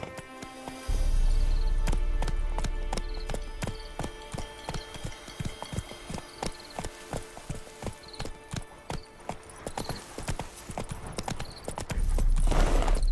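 Roach the horse galloping in The Witcher 3, a steady rapid run of hoof clip-clops up close, slowing into a looser gait midway, with a low rumble at the start and end.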